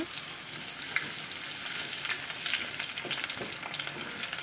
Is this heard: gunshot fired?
no